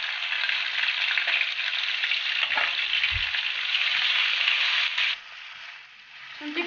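Ginger garlic paste fries in a hot pan, a loud, steady sizzle close up, with a brief stirring scrape partway through before the hiss drops off near the end.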